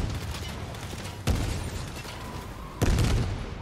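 Gunfire in a video game, with two heavy, booming shots about a second and a half apart over a constant noisy game background.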